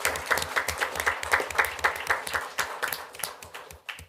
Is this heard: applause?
yes